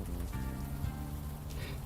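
Rain in the adventure game Unavowed falls steadily on a surface, a constant wet hiss under a low ambient hum, with no talking over it.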